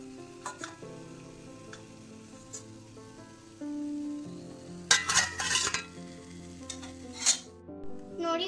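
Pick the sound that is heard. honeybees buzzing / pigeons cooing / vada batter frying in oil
vada batter frying in oil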